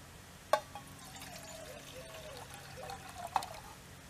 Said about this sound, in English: put some water in it, I guess.